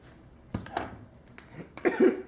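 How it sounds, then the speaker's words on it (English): A few close coughs and throat sounds come in scattered bursts from someone cooking at home, the last cluster loudest, after irritation from cayenne pepper in Creole seasoning. "Dig that cough"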